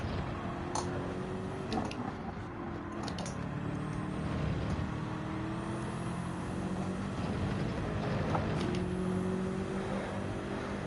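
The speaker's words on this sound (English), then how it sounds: "I could hear the noisy V10 Lamborghini" A noisy V10 Lamborghini engine in a Gran Turismo 7 GT3 sprint race, droning steadily at high revs with shifting pitch and other race cars around it. The engine note stays constant with no talk.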